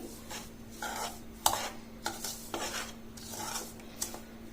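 A spoon scrapes and stirs sorghum flour with idli rava in a bowl, giving a steady run of soft gritty scraping strokes with a few sharper clinks against the rim, close by and alone with no talk.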